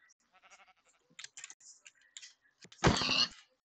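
A single loud, short sheep bleat from Minecraft rises near the end, after a run of quieter scattered game blips and clicks.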